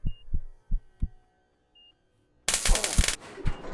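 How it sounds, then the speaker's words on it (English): Repeated dull thumps from hitting electrified bolts in the game Ship Graveyard Simulator 2, then a burst of loud crackling electric buzz with more thuds underneath. "So if I hit them, I get electrified"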